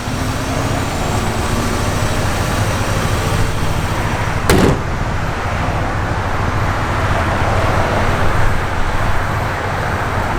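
A 1967 Chevrolet Corvette engine idles with a steady, continuous low rumble, close and fairly loud, interrupted once midway by a brief sharp click, with no talking.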